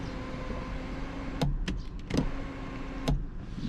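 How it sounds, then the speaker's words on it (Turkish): A BMW M4 convertible's power roof opening: a steady electric motor whine with several sharp mechanical clicks and clunks as the top folds, close up with no talk. "ondan sonra arabanın üstü açılıyor"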